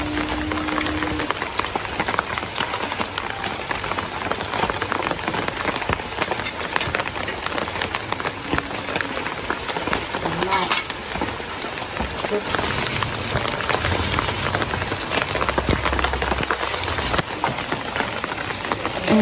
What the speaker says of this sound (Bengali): বৃষ্টি নামতেছে কয়দিন ধরে, একটানা ভালোই বৃষ্টি হচ্ছে।